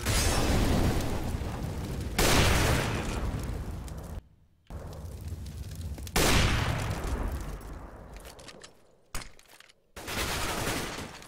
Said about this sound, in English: My nade's gonna finish that guy off.